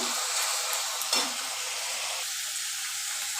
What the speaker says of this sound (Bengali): এবার পেঁয়াজটা আমি নেড়ে নিচ্ছি, গ্যাসটা আমি বাড়িয়ে দিলাম।